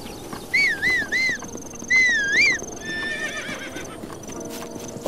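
Horse neighing in the video game The Legend of Zelda: Breath of the Wild, with two loud, shrill whinnies in quick succession, then softer fluttering neighs and light hoof clip-clops.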